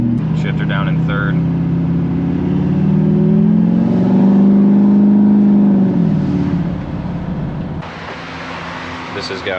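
Duramax diesel pickup with a 5-inch exhaust tip driving, a deep droning engine rumble that swells and eases as it pulls along, heard from inside the cab.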